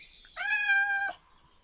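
A single drawn-out cat meow from a virtual pet cat in a game, clear and close, rising then holding steady for about a second before cutting off, with no talking.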